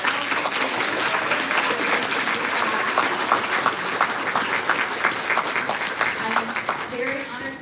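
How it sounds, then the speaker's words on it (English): A concert audience at a summer string music camp applauds steadily, dense sustained clapping that fills the room for several seconds before starting to thin near the end. "please just give a round of applause for this beautiful concert from the faculty and yourself"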